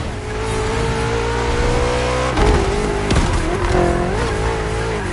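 A BMW M5 CS revs and accelerates through gear changes in The Crew Motorfest racing game, its loud engine note climbing and dropping at each shift, with brief tire squeal and no speech.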